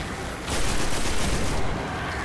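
Rapid gunfire from the video game Destiny: The Taken King crackles in a dense burst, loud and continuous after a brief lead-in, with no speech over it.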